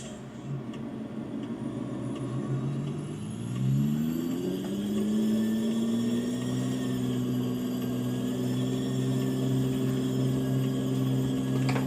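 A Freightliner truck's diesel engine pulls away in first gear, its steady rumble rising smoothly in pitch and holding under load, loud and close inside the cab with no one speaking.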